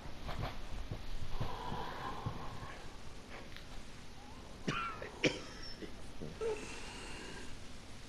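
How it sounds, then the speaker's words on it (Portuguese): A man's painful, rasping cough recurs on and off in Sekiro: Shadows Die Twice, quiet and somewhat distant, with a few sharper game sounds mixed in. "Em algum lugar, uma tosse dolorida soa continuamente."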